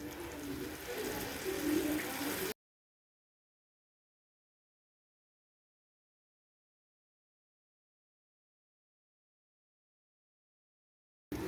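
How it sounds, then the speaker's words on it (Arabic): Water is poured into a pot of tomato sauce for a pasta dish, a soft, close splashing trickle lasting about two seconds before everything falls silent. "هنبتدي نخفف الاول شويه ميه على الصلصه"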